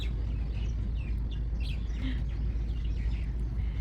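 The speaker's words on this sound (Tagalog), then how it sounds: "ang daming ibon oh" Many small birds chirp outdoors close by, their short high calls scattered over a steady low background rumble, with no one talking.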